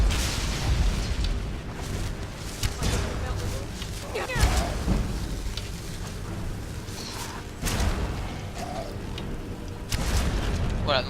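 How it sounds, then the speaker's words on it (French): Spell explosions in the video game Skyrim burst several times as dull booming blasts within continuous gameplay noise, with a person talking over them. "ça fait des explosions comme ça qui est pas mal OP en vrai"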